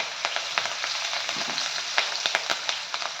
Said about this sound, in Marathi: थोडासा कढीपत्ता तो थोडासा परतून घ्यायचा आहे